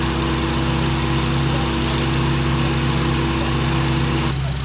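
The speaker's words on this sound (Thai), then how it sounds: "เดินเบาเปิดฝากระโปรงรถอยู่ในลมค่ะ" A 2013 Honda Accord engine idles steadily and close with the hood open, droning without a break, with a constant hum and light rattling vibration throughout.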